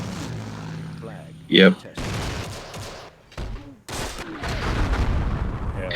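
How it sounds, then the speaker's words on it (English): Airstrikes, engineer mortar explosions and gunfire on a crowded battlefield in the World War II–themed Myth II: Soulblighter mod, with loud booms and bursts of fire scattered through the stretch, and voices talking over the action. "You could just spam the field up, the airstrikes, the engineer mortars."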